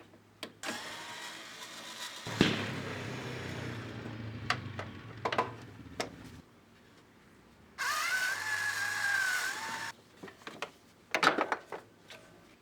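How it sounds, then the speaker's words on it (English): Sheet metal screws come out of the fan shroud of a Jeep MJ/XJ with an 8mm driver, heard as close clicks, ratcheting and scraping bursts, plus a sustained whirring spell of a power tool partway through. "There's 4 sheet metal screws that hold it in place."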